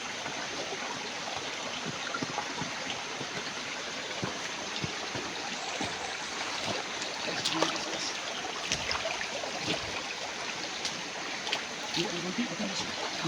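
Water running along a creek in a tropical jungle setting, a steady broadband rush that stays constant throughout, with occasional rustles and footsteps over it.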